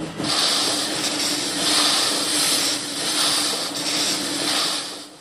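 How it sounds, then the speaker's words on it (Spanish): Dozens of antique piston engines run together in an engine museum in Vista, California, near San Diego, making a steady, dense mechanical roar that swells and eases without pause. "Pero su sonido llena el Museo de Motores Antiguos en Vista, California, cerca de San Diego, donde hay docenas de máquinas funcionando."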